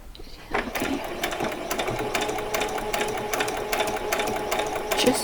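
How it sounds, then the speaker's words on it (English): A sewing machine stitches fabric for a doll's saree, a close, steady run of rapid mechanical needle clatter that starts abruptly after a brief quiet moment and continues evenly throughout. "Do a little tiny back stitch."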